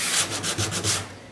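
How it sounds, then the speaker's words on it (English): Short, rhythmic strokes of hand sanding rasp over filler-coated fabric on an aircraft wing, about five passes in quick succession, close and fairly quiet. "just sand enough to get to smoothness"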